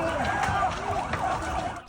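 Emergency sirens wail after an Israeli drone strike hit several cars in the coastal city of Sidon, southern Lebanon, a steady rising-and-falling wail filling the scene with a dense background of street noise.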